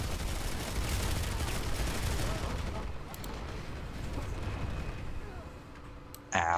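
Anti turrets in Planetside 2 keep up dense, continuous gunfire with a steady rumble of shots under a voice talking, ending in a louder burst.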